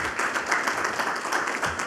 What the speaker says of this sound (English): Shall we give him one more round of applause,